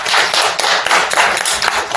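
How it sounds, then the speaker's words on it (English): Audience applause at a press event for Nubian Notes, a female artists' musical show in Zimbabwe, with many hands clapping close and loud in a dense, steady patter for two seconds. "Let's clap hands for that."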